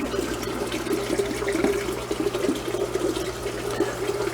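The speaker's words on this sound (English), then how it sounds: "we are now filling the tank back up" Water pours steadily into an aquarium tank during a water change, a continuous close gushing and splashing rush with no pauses.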